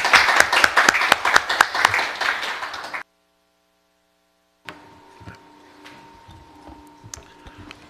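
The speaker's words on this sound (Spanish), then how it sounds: "Por favor, un aplauso para dar la bienvenida al doctor." An audience claps to welcome a doctor at an academic seminar on cognitive robotics. The brisk, dense clapping lasts about three seconds, cuts off into silence, then gives way to faint ticking and a steady hum.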